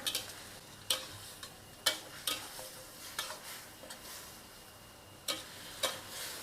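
Basil chicken stir-fried with sauce in a pan, with quiet background frying and a series of sharp, irregular clicks and scrapes from the spatula against the pan.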